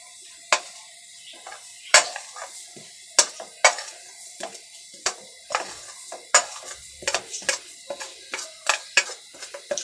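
Spices frying in oil in a hot pan over a low flame, with repeated sharp clinks and scrapes of a spoon stirring against the pan over a soft sizzle.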